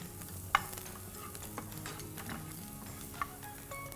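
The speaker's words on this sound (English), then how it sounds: "Give it a stir." Onions and garlic frying in olive oil in a pan, stirred by hand: a soft, steady sizzle with a few light scrapes and taps of the utensil, quiet and close, with no voices.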